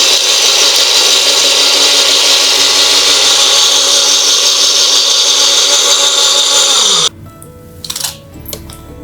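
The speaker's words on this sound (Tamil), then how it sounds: "ஊற வச்ச புளியோட நம்ம தனியா மற்றும் நாட்டு சர்க்கரை சேர்த்து அரைச்சிடலாம்." A mixer grinder whirs loudly and steadily while grinding soaked tamarind with coriander seeds and country sugar, then spins down and stops, leaving soft handling clatter.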